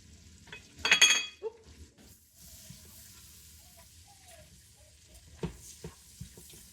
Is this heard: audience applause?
no